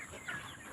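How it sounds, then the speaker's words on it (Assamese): Broiler chickens on a poultry farm give a short burst of soft clucking, a brief moderate flock murmur without any talk. "এইটো ব্ৰইলাৰ ফাৰ্মটো, অঁ ব্ৰইলাৰৰ দানা হয় সেয়া।"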